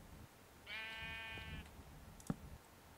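A single sheep bleat from the video game Minecraft, a wavering nasal cry lasting just under a second, followed by a soft click, with quiet background hiss and no talking.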